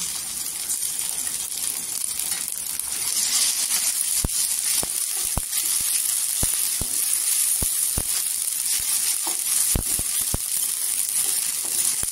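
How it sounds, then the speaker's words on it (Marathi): Ginger garlic paste sizzles in hot oil in a pan for akkha masoor, a steady bright hiss throughout, close and loud, with scattered sharp clicks and pops. "अद्रक लसणीची पेस्ट टाकायची 2 चमचा."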